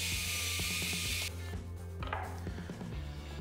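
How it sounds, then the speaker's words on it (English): Power drill boring holes in wood for the side stops of a homemade band saw's blade guides, a steady loud whirring motor with a shift in pitch partway through and faint mechanical clicks, no voices. "Now I drill holes for the parts that will act as side stops for the blade."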